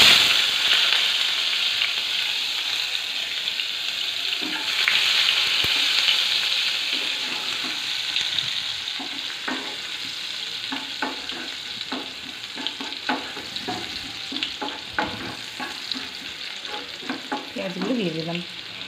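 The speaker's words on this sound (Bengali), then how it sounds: "এবার দেখো আমি যে কেটে রেখেছিলাম পেঁয়াজগুলো কুচি কুচি করে, সেগুলো আমি তেলের মধ্যে দিয়ে দেবো" Finely chopped onions fry in hot oil for an egg curry, giving a loud, steady sizzle that settles into crackling and pops as the pan is stirred, close up.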